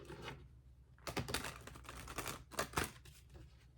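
Papery riffling and soft slapping of tarot cards being shuffled close by, in short bursts with a brief quiet gap early on.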